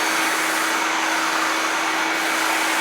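A Delphin vacuum cleaner fitted with a telescopic brush attachment runs steadily with a loud, even airy roar and a constant motor whine throughout, with no pauses.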